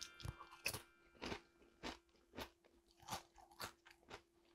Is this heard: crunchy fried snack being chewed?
yes